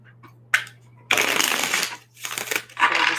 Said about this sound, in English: I'm going to shuffle again.